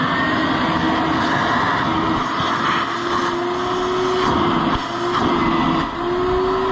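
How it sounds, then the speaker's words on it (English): A shop vacuum runs steadily while sucking debris out of the old engine of a rusty Oliver Hart-Parr 28-44 tractor, a loud whine that rises slightly in pitch with intermittent gritty rattles. "Let's get the shop vac and see what we come up with."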